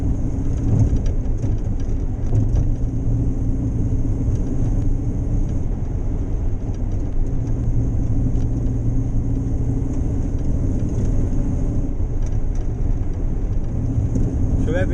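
A Morris Minor car runs with a steady, close, low engine rumble that holds evenly from start to finish.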